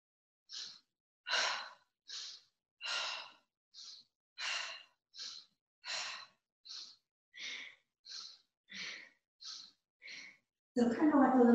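Rhythmic breathing during a core exercise session: about fourteen short, forceful breath bursts evenly spaced, close and breathy, ending with a louder mixed burst.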